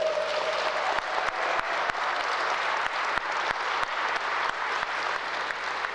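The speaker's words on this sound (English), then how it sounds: "we have to recognize and applaud our great Department of Aviation Commissioner, Jamie Rhee" An outdoor ceremony crowd at O'Hare airfield applauds in a steady wash of clapping, with a few sharper claps standing out over a low background hum throughout.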